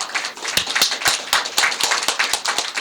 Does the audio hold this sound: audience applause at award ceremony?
yes